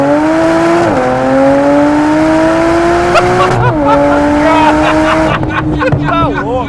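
A stock Porsche 911 Turbo S with original Bosch engine management pulls hard through second gear, its loud, close engine note climbing steadily in pitch with brief dips at shifts and a rising surge near the end.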